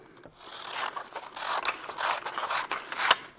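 Scissors snipping through origami paper, a run of crisp close rubbing cuts with short pauses, one sharper snip near the end, no talk.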